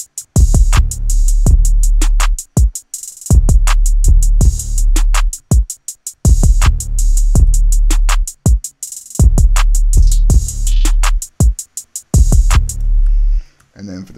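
Hip-hop drum beat with a booming 808 bass, sharp claps, snare and open hi-hat, playing loud and close in a repeating pattern with brief dropouts between phrases and no voices.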